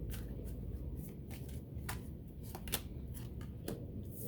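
Tarot cards being shuffled and drawn for a love reading: soft, close papery riffles and flicks in an irregular rhythm, quiet and with no talking.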